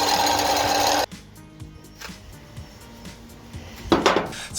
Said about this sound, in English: I'm just going to face them on the sander to get rid of all this wax and just make them nice and smooth